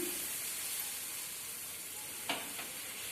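Besan chilla batter hisses and sizzles steadily on a hot pan, and a couple of brief scraping touches from a spoon spreading it are heard near the end. No one speaks.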